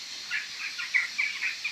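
A white rooster gives a run of short, bright calls in quick succession, moderately close and fairly faint, with no voices over them.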